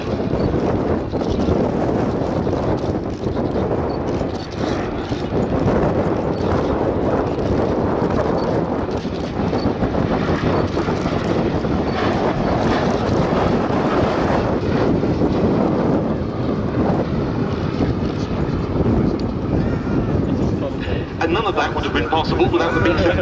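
The B-17 bomber Sally B passes overhead at an air show at Duxford, its engines a loud broad roar that holds steady throughout, mixed with wind buffeting and a commentator speaking over it.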